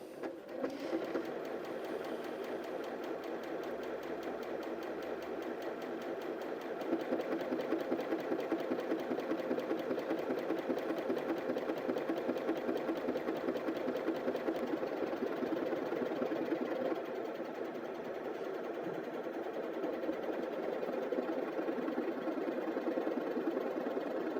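A Janome Sewist 740DC sewing machine stitches a one-step buttonhole, humming and chattering steadily for over twenty seconds at a moderate, fairly soft level with slight shifts in pace as it works.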